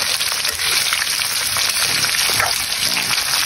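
Garlic frying in hot oil, a loud, steady crackling sizzle that continues without a break, close up and on its own.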